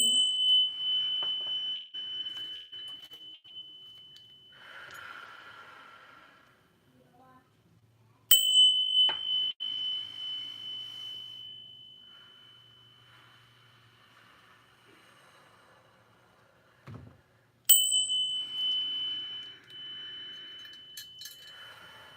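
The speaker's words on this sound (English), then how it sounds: "we're going to breathe in, breathe out with the sound of the bell" A meditation bell is struck three times, each a bright ringing tone that slowly decays over several seconds, spaced about eight to nine seconds apart with near silence between.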